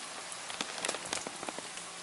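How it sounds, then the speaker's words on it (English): Steady rain patters on a hard surface in a workshop during an engine rebuild, with dense hiss and scattered, close drops tapping irregularly. "It's raining again."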